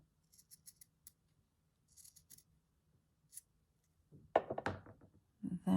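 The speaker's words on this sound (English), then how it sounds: "I might just snip" Scissors snipping paper tendrils for a garden-themed craft journal, with several soft close snips and a few louder thunks and handling rustles toward the end, no speech.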